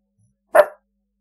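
A single sharp bark from Jet, the show's mascot dog, close and loud, alone against silence.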